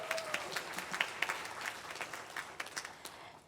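Audience at a community panel discussion applauds with scattered, distinct hand claps, fairly quiet and somewhat distant, keeping up steadily for a few seconds without voices.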